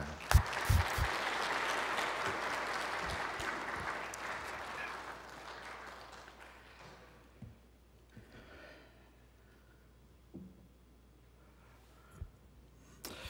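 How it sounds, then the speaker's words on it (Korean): A church congregation at an autumn revival Sunday service applauds as the pastor comes forward. The full clapping lasts several seconds, then dies away into a quiet room with only faint breaths and small sounds. "우리 목사님 나오실 때 다시 한번 큰 감사의 박수 올려드리겠습니다."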